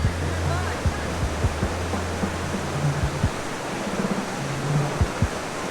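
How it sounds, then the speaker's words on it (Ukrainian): Powerful flow of Probiy waterfall in the Carpathians roars as a steady, broad rush of falling water, with faint voices and low hum from a crowd underneath. "Ось такий ось водоспадик."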